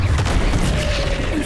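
A Confringo spell cast in Hogwarts Legacy, heard as a dull boom and crackling burst over a short moment, with a faint rising tone trailing through the rumbling game background.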